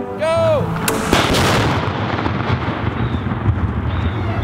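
A massive tannerite explosion mixed with gasoline, set off outdoors as a test shot: one loud, sharp blast that booms and then rolls away in a long, fading rumble with no talk over it.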